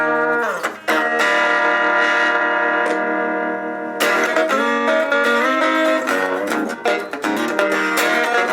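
A Donner DST-80 electric guitar plays loud and close through a distorted amp, with sustained, buzzing chords and notes, picking and hammer-ons, and a few brief pauses between phrases.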